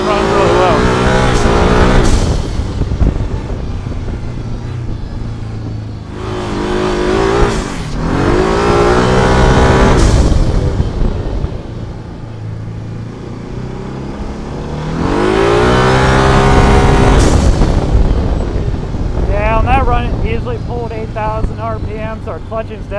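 Turbocharged Aerocharger Maverick running 5 pounds of boost on a clutch test ride-along: loud engine revs rise and fall in three long sweeping pulls, with the engine dropping back to a lower drone between them.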